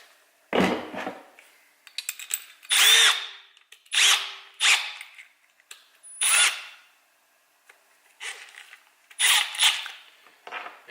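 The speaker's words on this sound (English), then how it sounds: "when I was using the regular drill" A regular cordless drill runs in a series of short, separate bursts with quiet gaps between them, each whir close and loud, about eight in all.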